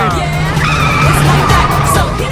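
A car pulls away with its tires skidding and squealing, a loud continuous screech and engine roar that lasts the whole stretch, with a voice faintly underneath.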